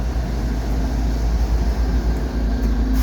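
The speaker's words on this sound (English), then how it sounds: "Locomotives are coming up." Loud, close rumble of CN freight locomotives passing during a backup move, with a heavy low-frequency engine drone and steady mechanical roar throughout.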